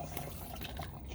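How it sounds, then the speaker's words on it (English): A foot pump pushes water from the faucet of a DIY outdoor tent-camp sink, a soft continuous trickling and splashing stream with faint pulsing, fairly quiet. "This is the foot pump in action."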